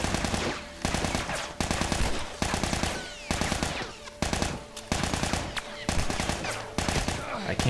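Rapid automatic gunfire from The Last of Us video game, loud bursts of close machine-gun fire repeating in quick volleys with brief gaps throughout, dense and continuous with no talk over it.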